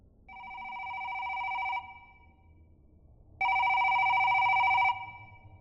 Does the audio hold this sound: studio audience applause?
no